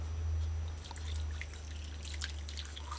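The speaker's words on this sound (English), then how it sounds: "remove the oxtail and pour the oxtail broth" Oxtail broth is poured from a saucepan into a separate container, giving soft trickling and scattered drips over a low, steady kitchen hum.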